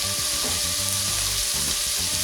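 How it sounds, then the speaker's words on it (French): Onions sizzle and crackle steadily in a hot pan, with a soft stirring rhythm of scrapes and shuffles running under the continuous fry. "on va faire tomber les oignons tranquillement"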